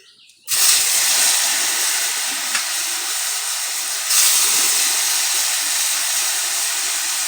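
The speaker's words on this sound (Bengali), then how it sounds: "এখন এগুলোকে আমি ঝটপট করে ভাজাভাজি করে নেব" Loud, steady sizzling hiss of paneer frying in hot oil, starting abruptly and continuing throughout with faint scraping and clinks.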